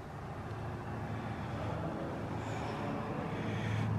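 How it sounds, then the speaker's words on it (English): A low, steady roadway rumble as a car drives by at a distance, with no talking. "That's a car going down the down the road."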